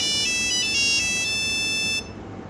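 A cell phone ringtone plays a bright, steady electronic melody during a wedding ceremony, loud and close, then cuts off abruptly, leaving faint room noise.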